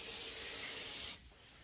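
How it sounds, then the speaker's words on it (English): A steady close hiss of cooking spray onto a pan lasting about a second, then cutting off abruptly into quiet room tone. "So just give it a little spray."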